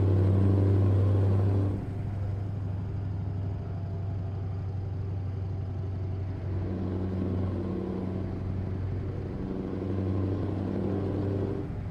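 Simulated V8 truck engine with an open exhaust pipe in Euro Truck Simulator 2, a loud steady low drone and rumble that drops slightly after a louder opening, with a few gentle swells in pitch throughout.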